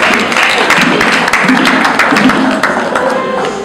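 Audience applause for the Missiala family at a matanga mourning gathering: a dense, continuous wash of clapping that holds steady at close range for the whole stretch, with no voice above it.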